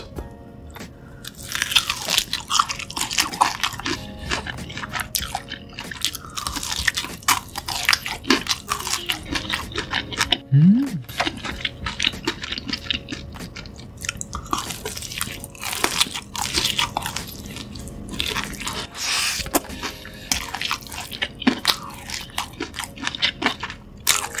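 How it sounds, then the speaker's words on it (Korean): Loud, close crunching bites into crispy deep-fried pork back ribs, repeated crackly chews running throughout with no talking. "첫입은 맛이 가장 궁금한 등갈비 튀김부터 한번 먹어볼게요."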